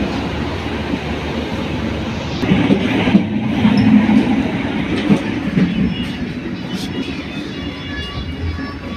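A moving local night train between Blitar and Kertosono, heard from inside a carriage: a loud constant rumble of wheels on track with rattling and a faint clatter, swelling slightly midway, no talk.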